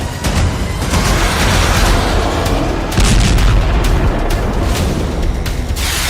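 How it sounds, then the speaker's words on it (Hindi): Israeli air force bombardment of the Gaza Strip, heard as dense, loud, continuous rumbling booms and blasts with heavy low-end roar, no voices over it. "इजराइल की वायुसेना ने गाजा स्ट्रिप पर धुआंधार बमबारी कर दी"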